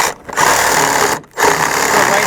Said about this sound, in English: letting the Sawzall